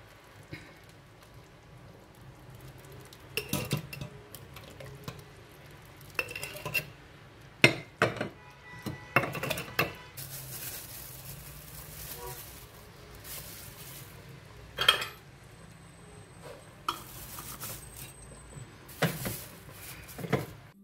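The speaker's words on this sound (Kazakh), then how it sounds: "Енді астын өшіріп, стерилденген банкілеріме салып шығамын." Hot peach jam with walnuts is spooned from a pot into sterilized glass jars, giving scattered clinks and scrapes of a ladle against glass and metal, loud knocks at moments, over a quiet kitchen background.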